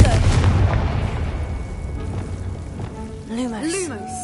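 A Confringo fire spell cast in Hogwarts Legacy on the hard difficulty setting, heard as a loud booming, crackling blast that tails off, followed by a brief voice.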